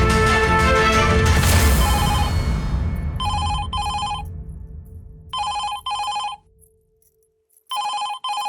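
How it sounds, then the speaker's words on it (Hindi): A home landline telephone rings in repeated electronic bursts, loud and near, two rings at a time separated by short pauses, following a loud crashing burst at the start. "वो देखो घर का टेलीफोन बज रहा है"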